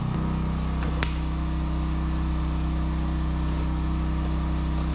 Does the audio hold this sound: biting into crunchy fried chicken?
no